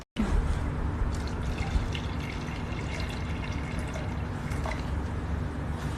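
Water is filled into the inlet of a ZS630 machine through a tube, making a steady close rushing and trickling pour with faint drips throughout.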